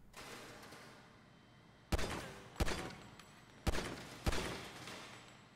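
Pistol gunfire in the video game GTA V: four sharp shots spaced unevenly over a few seconds, fairly loud over a quiet game background, with no talking.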